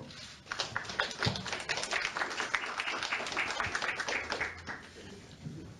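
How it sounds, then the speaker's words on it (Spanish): Audience applause at a signing ceremony between Peru's judiciary and Ministry of Education, a fairly quiet and uneven patter of clapping with a few louder claps and faint voices mixed in. "Un fuerte aplauso."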